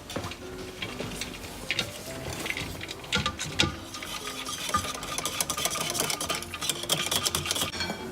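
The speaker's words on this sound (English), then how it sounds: "we're gonna stir it in the bowl for around 1 minute until the custard is cool" Custard stirred by hand in a bowl set inside a larger bowl of iced water, giving busy, rapid scraping and clinking strokes against the bowl that run continuously and close up.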